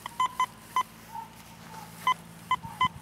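A metal detector sounds a series of short, clean beep tones over a lawn at an old house, several quick chirps at irregular intervals with soft rustling between them, close and alone.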